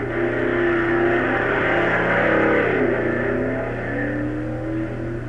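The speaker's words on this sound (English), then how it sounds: "C Dragster class between two old rivals, the Ramblin' Ram from Texas and the Dragliner from California." The C-class dragsters Ramblin' Ram from Texas and Dragliner from California race, a loud continuous engine roar with shifting, rising pitch tones, heard alone with no talk.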